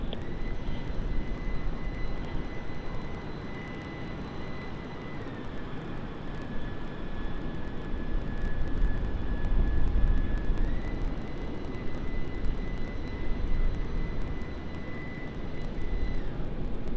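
A Thai Airways jet taxis toward the international terminal at Sydney Airport at night, its engines giving a steady, moderately loud whine and rumble over continuous background noise for the whole stretch.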